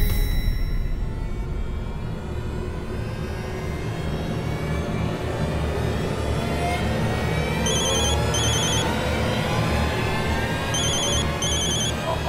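Telephone ringing after a number is dialled, a repeating pattern of short ring bursts in pairs, moderately loud, over a steady low rumbling background, with no voices.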